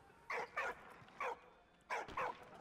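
A dog barks in the video game Valiant Hearts: The Great War, five short, bright barks in two clusters with gaps between them, clear and fairly close over a faint background.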